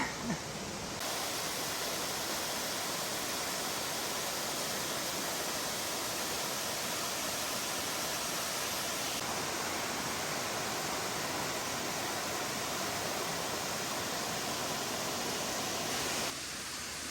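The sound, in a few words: waterfall beside a mountain trail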